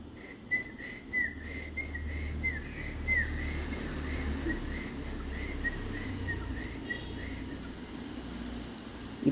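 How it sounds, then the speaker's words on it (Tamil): A person whistles to a cockatiel chick in a string of short, bright, repeated chirping whistles, fairly soft and steady over a low background hum. "இப்படி விசில் அடித்து காட்டினோம்னா அவங்க அப்பா விசில் அடிக்கிறது அவனுக்கு தெரியும்"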